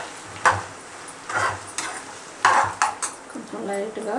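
A spoon stirs ginger garlic paste frying in oil in a metal pan, making several sharp clinks and scrapes against the pan at uneven intervals, with a faint sizzle beneath.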